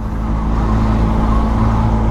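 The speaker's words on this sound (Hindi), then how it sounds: "लगा हुआ है ये ट्रैफिक जैम।" Road traffic idles and rumbles in a jam on a highway, a steady, close, loud engine drone with low hum and no clear breaks.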